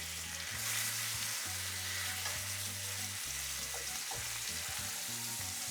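Ossobuco meat browns in a pan with a steady, even sizzle and light crackle throughout, heard fairly close, while a low tonal hum of steady notes runs underneath.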